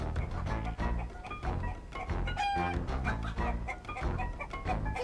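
Chickens cluck and crow on a farm, a steady busy flock sounding close and fairly loud over continuous background music.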